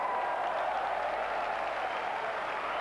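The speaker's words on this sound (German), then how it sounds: "mit Recht gibt es hier Applaus" Spectators at a 1990 climbing World Cup in Nuremberg applaud steadily as a climber reaches the top, a dense, even wash of clapping from a crowd at some distance, continuing without a break.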